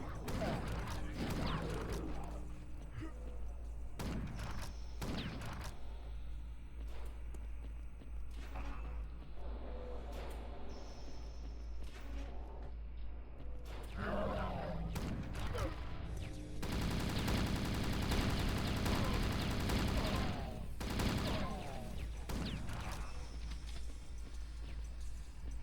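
Automatic turret gunfire in the video game Chasm: The Rift, bursts of rapid shots and mechanical clanks recurring through the stretch, with a heavier sustained volley later, moderately loud over game ambience.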